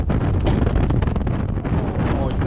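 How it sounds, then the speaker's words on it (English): Strong wind buffets the microphone in loud, gusty bursts, a roaring rumble throughout with no clear speech. "This is gonna be as windy as heck."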